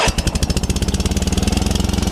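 A Sears SS16 garden tractor engine, snow-covered and cold-started at -25°C, runs rough and over-choked, with loud, rapid, evenly pulsing chugs that continue steadily throughout.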